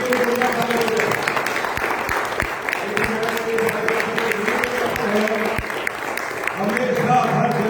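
An audience claps at a couple's celebration event, dense sustained applause with sharp individual claps standing out while someone speaks over it through a microphone.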